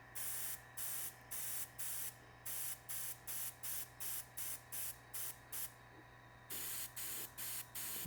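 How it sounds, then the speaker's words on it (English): Short bursts of a spray can laying light, thin mist coats onto a masked F-16 scale model, about a dozen even hissing pulses with brief gaps, close and steady, a low hum beneath. "Just light, thin mist coats to start with."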